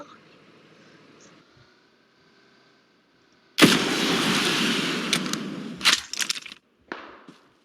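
Shots fired at a boat in the game PUBG Mobile: after a quiet stretch with a low engine hum, a loud burst of gunfire and cracking starts abruptly, followed by a few separate shots.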